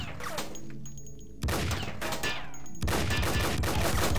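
Gunfire in Duke Nukem 3D, a loud, dense run of rapid shots in two bursts separated by a brief lull, with game sound filling the background and nobody speaking.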